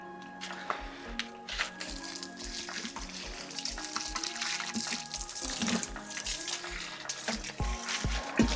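Water splashes and trickles onto potted plants as they are watered, a continuous wet pouring sound with irregular patters, close by and moderately quiet.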